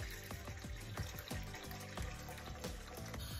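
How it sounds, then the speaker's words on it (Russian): Tap water pours into a deep cooking pot with a steady splashing rush, broken by a series of soft knocks and clatters, close and fairly quiet. "В кастрюлю наливаем воду"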